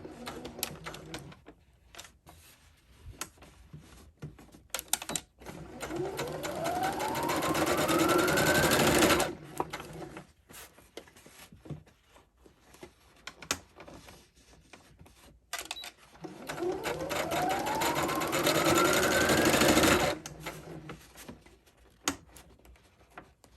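A sewing machine stitches boning into a bridesmaid dress, running in two long, loud whirring bursts of several seconds each, with short pauses and handling clicks between them, close by and with no talking.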